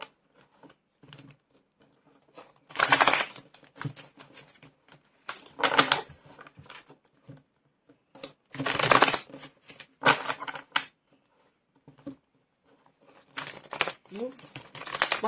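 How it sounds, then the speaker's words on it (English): Tarot cards are shuffled in several quick riffling bursts, close and crisp, separated by quiet pauses, with a few soft handling noises between. "My shuffling game is not on point today."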